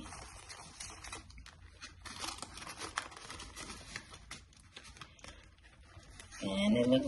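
Cash bills and paper savings envelopes being handled and stuffed, with crinkling, rustling and tearing-like paper sounds at close range, steady and busy throughout, ending in a louder patch of handling.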